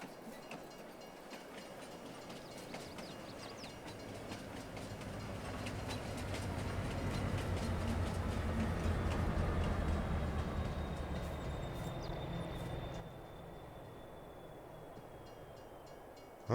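A train rolls along the tracks in Farming Simulator 22, a steady rumbling clatter of wheels that swells louder through the middle and then eases off, with no talking over it.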